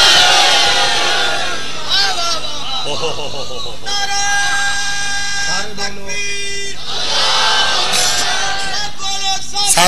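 A congregation at a Shia majlis chants loud call-and-response phrases, a large crowd of voices swelling together against a preacher's amplified, echoing voice.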